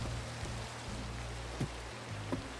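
Steady rain falls across a video game world, a soft even hiss with a faint low hum beneath and a couple of brief soft taps.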